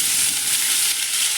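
Chopped capsicum, tomato, beans and carrot sauté in hot oil for rava dosa batter, a loud, close, steady hissing sizzle that fills the whole brief moment without any talking.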